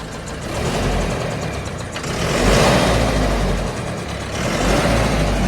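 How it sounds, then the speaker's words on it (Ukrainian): A heavy diesel engine of a 110 hp BISON tractor runs close by, rising and falling as it is revved several times, with a faint high turbo whistle riding over the rumble. "А можете газануть, почуть, як турбінка свистить?"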